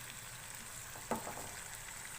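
Steady quiet sizzling of spices frying in a pan over medium flame for a daal tadka, a soft continuous hiss with one brief clink partway through.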